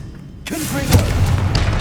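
A Confringo spell blast in Hogwarts Legacy, a sudden booming burst after a quiet moment, followed by a deep, rolling low rumble and a short spoken word layered over the impact.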